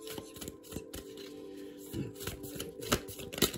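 Tarot cards shuffled by hand in a series of quick riffling bursts, close and fairly loud, with brief pauses between shuffles and no talking.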